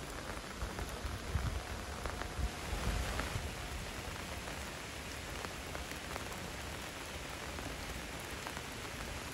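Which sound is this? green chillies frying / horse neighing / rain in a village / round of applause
rain in a village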